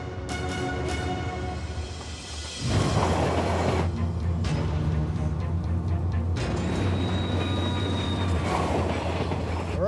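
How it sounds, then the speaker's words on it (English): A heavy 15,000-ton freight train with 448 wheels rolls down a corkscrew mountain descent in blizzard conditions, a loud continuous rumble with metallic wheel squeal and rail clatter that swells after a quieter start. "Each of the train's 448 wheels will be pushing outwards with 4 tons of force as it makes this corkscrew descent."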